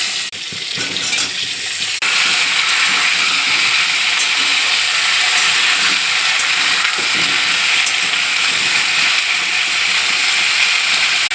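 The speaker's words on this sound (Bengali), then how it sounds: "আমি একটু জিরে ফোড়ন দিয়ে দিচ্ছি, দিয়ে দিচ্ছি আলু" Cumin seeds and potatoes hit hot oil left over from frying rohu fish, giving a loud, close, continuous sizzle with a sharper burst near the start, heard alone for over ten seconds.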